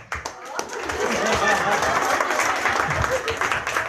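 A church congregation at an evangelistic mission service in Kupang claps, loose scattered hand claps swelling into a fuller round of applause, with voices murmuring underneath.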